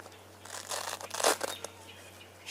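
A Velcro strap ripped open outdoors in the evening, heard as a close, scratchy tearing burst lasting about a second over a steady low hum.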